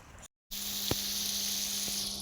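Water spraying from a pump pipe, fed by two motors, into a furrow of a maize field, a close, continuous hissing gush broken by a short gap near the start.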